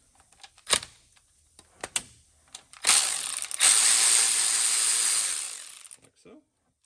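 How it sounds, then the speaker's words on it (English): A ratchet loosens a 10 millimeter bolt on a 6.0 Powerstroke engine: a few separate clicks and knocks come first, then a close, steady run of fast ratcheting clicks that lasts several seconds before stopping. "Get you a 10 millimeter. We're going to take this bolt right here loose."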